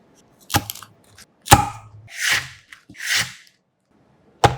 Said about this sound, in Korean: 꽈리고추 300g은 큰 것은 어슷하게 반을 잘라주고 작은 것은 칼집을 한번 내주세요